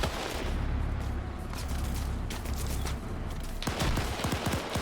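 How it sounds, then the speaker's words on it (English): Gunfire in a multiplayer military video game battle between British and German sides, dense bursts of rifle shots and booming reports, sustained and loud, with a sharper cluster of shots near the end. "Getting shot by Saigon here"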